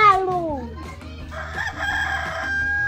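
A rooster crows once, loud and close, its call sliding down in pitch, followed by a busy outdoor background with children's voices and murmuring.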